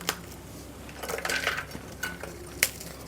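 Rusk is crushed into small pieces for halva, giving a few crisp cracks and crunches with light clinks of dishware, close and brief, alone without talk.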